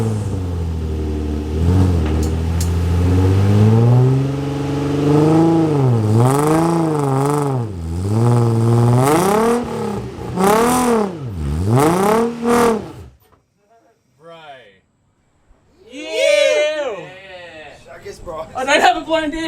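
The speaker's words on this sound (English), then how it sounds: "accelerate hard while putting foot brake and handbrake on" A car engine revs hard and climbs in pitch while both foot brake and handbrake hold it loaded, in long rising and falling surges for about thirteen seconds, then drops to a quieter idle as voices speak.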